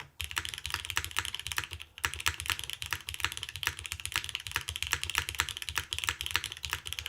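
Rapid, steady typing on a Keycult No. 2 TKL mechanical keyboard, close and clear: dense clacking keystrokes run continuously, with a brief pause near two seconds before the typing resumes.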